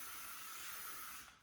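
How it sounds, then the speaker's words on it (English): Hairspray hisses from an aerosol can onto a woman's short pixie cut in a steady, fairly faint burst lasting just over a second before tapering off. "then spray it"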